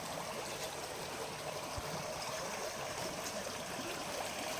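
Water flows steadily through an irrigation canal just reopened after five days closed near a home in Chiang Mai, a continuous broadband rush and trickle with no distinct splashes, fairly quiet and unbroken throughout.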